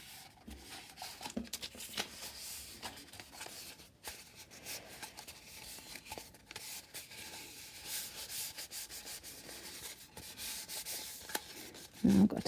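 Paper is wrapped around a handmade craft tower, giving soft continuous rubbing and crinkling with small taps, close and quiet.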